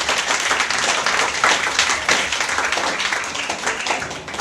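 An audience gives a quiz team a round of applause, dense steady clapping from many hands that carries on without a break throughout.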